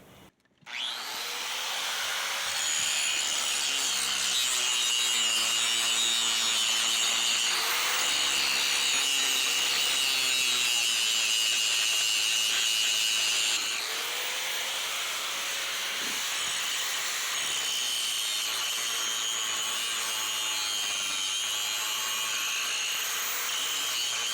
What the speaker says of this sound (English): I'm cutting them rivets down to where I won't have to grind so much.